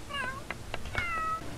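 A cartoonish cat in The Sims 3 life-simulation game gives two or three clear, rising meows in quick succession, close and fairly loud over a faint background hum.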